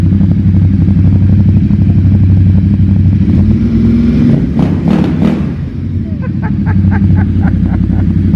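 An Aprilia Tuono motorcycle engine runs loud and close, a throbbing idle with a few sharp revs in the middle, its steady rumble carrying on throughout.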